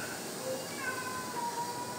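A cat gives a few faint, thin meows in a kitchen where green beans cook in an Instant Pot, the calls sitting over a low, constant background hiss.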